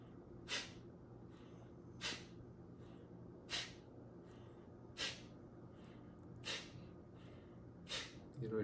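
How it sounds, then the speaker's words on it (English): Kapalbhati pranayama breathing, with forceful exhalations snorted out through the nose in a slow, even rhythm of about one every one and a half seconds. Each burst is a sharp hiss, close and distinct over quiet room tone. "then you do forced exhalation with the nose breathing"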